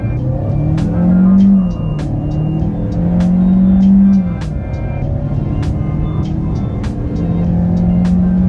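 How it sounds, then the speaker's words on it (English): A 2023 Hyundai Sonata's engine roars as it accelerates at full throttle, rising in pitch through repeated surges and gear shifts, loud and close throughout. "And I'm gonna floor it."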